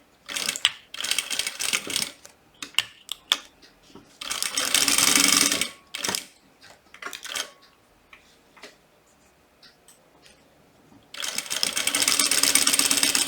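A sewing machine stitching along a marked line on fabric, running in rapid mechanical bursts of a few seconds each, separated by quieter ticks and pauses.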